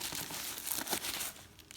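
Packing paper crinkles and crumples while plates are unwrapped, a run of close, quiet rustles and crunches with brief bursts, no talk during it.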